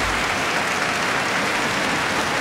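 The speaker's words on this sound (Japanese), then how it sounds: "大拍手です" Loud, dense applause from a badminton crowd at a men's doubles match at the 2018 Japan Open, a steady roar of clapping filling the hall without a break.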